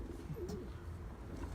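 Soft, low cooing from German and Belgian breed pigeons, a brief close call with a gentle rolling warble against a quiet background hum, no voices.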